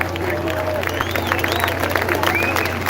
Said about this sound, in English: round of applause for all the people working backstage